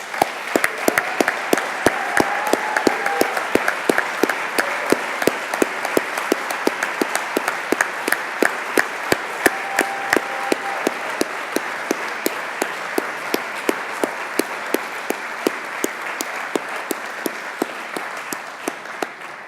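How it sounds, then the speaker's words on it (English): A large audience gives sustained applause for the award winners at the 2017 Special Olympics Canada Awards, with dense, steady clapping that fills the room for about twenty seconds and no talk over it. "We can applaud them one more time."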